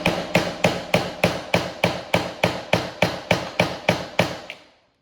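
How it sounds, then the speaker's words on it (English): Wooden pegs struck with a hammer on a bench in about sixteen steady, evenly spaced blows, each a crisp, loud knock, ending in a short fade with no one talking. "so we're going to keep hammering."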